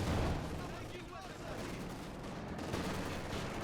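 Grenadier rifle and machine-gun fire crackles through a Company of Heroes 2 battle, dense overlapping shots and booms under a commentator's voice for a few seconds.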